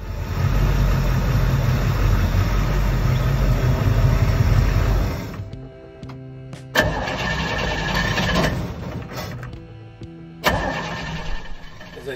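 A 26-foot Lyman Sleeper boat's faulty engine roars loudly for several seconds, cuts out, then sputters back to life twice, running unevenly with rough surges.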